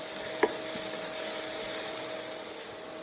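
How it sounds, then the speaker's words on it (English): Onions cooking down in a pan with oregano and herbs, a steady soft sizzle and hiss running continuously, with one brief utensil clink near the start. "let the onions cook down a little bit more here"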